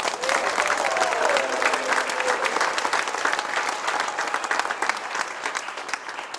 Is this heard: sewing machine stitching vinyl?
no